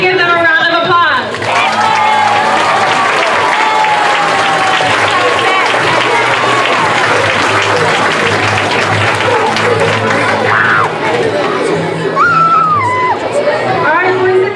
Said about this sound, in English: Let's go ahead and give them a round of applause.